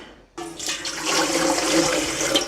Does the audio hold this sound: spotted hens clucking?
no